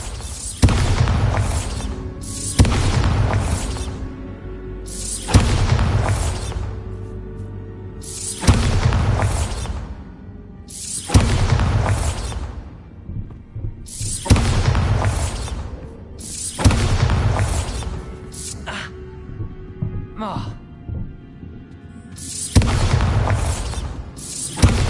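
Bombarda blasting spell explosions in the video game Hogwarts Legacy, a series of about nine loud, booming blasts at regular intervals, each with a crackling tail that fades into quieter gaps.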